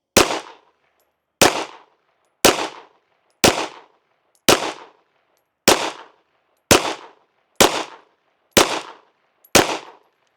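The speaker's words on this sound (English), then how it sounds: "So let's shoot our first 10-shot group at that top right target." A SAR9 Socom pistol fires ten single shots at a steady pace, each sharp loud crack roughly a second apart and trailing a short outdoor echo, with no talking in between.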